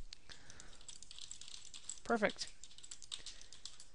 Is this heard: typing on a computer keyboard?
yes